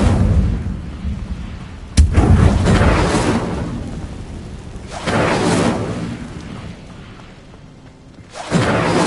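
Fire spells cast in Hogwarts Legacy on PS5, heard as three loud, whooshing roaring bursts, each swelling and fading over a couple of seconds, with a sharp crack opening the first.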